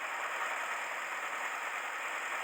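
After five years unused, a Hillman Imp engine runs and stumbles. A steady, hissy, rough engine noise is heard close by, with no voices.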